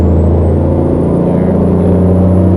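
A Peterbilt 359 in American Truck Simulator drones as its engine downshifts, a loud, continuous low diesel rumble with a rising whine above it and no talk.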